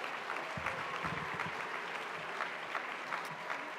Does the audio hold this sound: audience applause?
yes